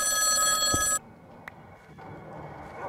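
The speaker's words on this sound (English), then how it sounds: "Oh, it's the phone, excuse me." A telephone bell rings in a bright, sustained electronic trill for about a second and then cuts off, followed by a brief click and quiet room tone.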